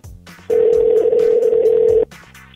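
A call placed through Skype Mobile on an Android Droid phone rings out as one loud, steady electronic tone lasting about a second and a half, with quiet room sound before and after.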